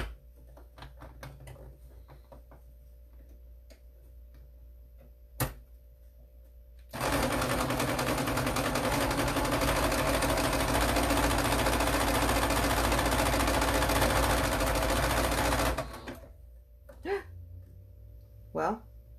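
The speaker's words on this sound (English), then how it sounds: "So I'm gonna sew it down and I'll show you what it looks like." A sewing machine stitches down a fabric face mask in one steady, loud, continuous run of about nine seconds. Quiet handling noises come before it and a few brief clicks follow.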